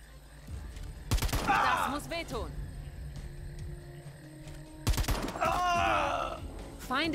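Gunfire in the video game Jagged Alliance: Rage!, two loud bursts of shots several seconds apart, each followed by groaning cries, with someone talking quietly in between.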